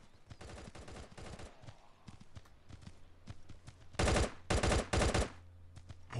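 Gunfire in the mobile shooter Guns of Boom, with rapid automatic bursts and scattered single shots, building to a loud, close volley of repeated bursts near the end.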